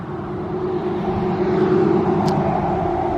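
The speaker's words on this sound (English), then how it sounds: "It's the weekend, so heavy traffic, people going to the mountains" Heavy weekend road traffic heading toward the mountains rolls past as a continuous, fairly loud wash of car noise with steady tire and engine rumble and no voices.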